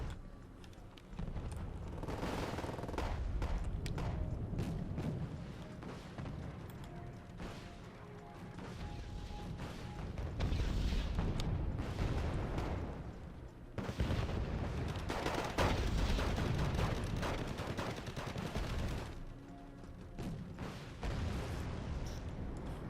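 Continuous rumbling artillery fire and explosions in Wargame Red Dragon, a dense, heavy, roaring battle din with booming impacts layered over one another, steady throughout at moderate loudness.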